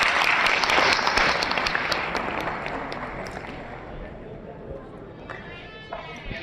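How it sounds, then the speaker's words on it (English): Large audience at the Lahore Ophthalmo 2022 ophthalmology conference applauding international guests, loud dense clapping that starts strong and slowly tapers off over several seconds, with faint crowd voices mixed in. "Let's give them a big clap."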